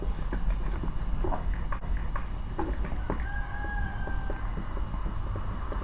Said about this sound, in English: I really hope we can hear those chickens crowing in the background